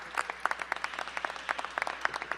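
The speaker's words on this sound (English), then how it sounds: "I would like to give them a round of applause." An audience gives a brief burst of steady applause for District of Columbia employees at a World AIDS Day event, with dense, close clapping from a modest crowd lasting a couple of seconds.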